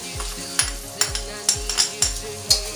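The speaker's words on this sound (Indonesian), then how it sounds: "Ini kita aduk dulu" Anchovies, onion and petai are stirred in a frying pan with a soft sizzle beneath a steady rhythm of utensil scrapes and taps, roughly twice per second, with no voices.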